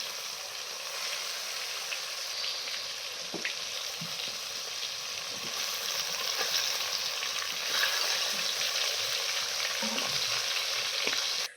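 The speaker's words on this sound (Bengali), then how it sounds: "মাছ ভাজা হচ্ছে দেখো।" Fish fries in a clay kadai stirred with a wooden spatula, giving a close, continuous sizzle with occasional scraping knocks that grows slightly louder before cutting off abruptly.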